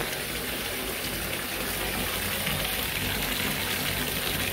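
Water gushes steadily into a bathtub with foaming bath product added, a constant loud rushing splash that continues without break.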